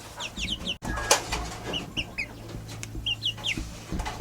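Several chickens cluck and chatter nearby in short repeated bursts, with a sharp knock early on and a low hum underneath.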